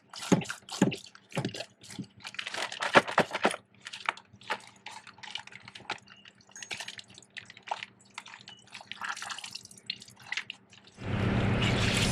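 Water dripping and trickling while socks are washed in a Scrubba wash bag, irregular close drips and small splashes, ending in a louder rush of poured water.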